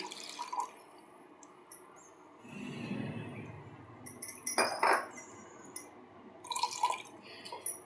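Rinse water from a mixer jar is poured into a bowl in a home kitchen while sweet paniyaram is being made. A quiet trickle is followed by a few small splashes and light clinks, with no talking.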